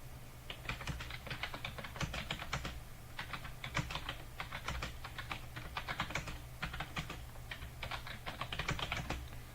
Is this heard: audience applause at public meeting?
no